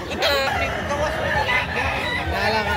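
A gamefowl rooster clucks and crows amid a dense, continuous chorus of other fowl, loud and close throughout with no clear pause.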